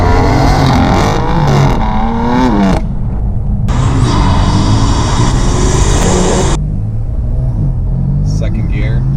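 A BMW M4 S55 engine with an MHD tune and antilag roars hard under acceleration, its pitch sweeping upward then dropping at shifts, loud and close throughout.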